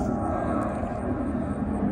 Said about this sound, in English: you can probably hear that plane in the background.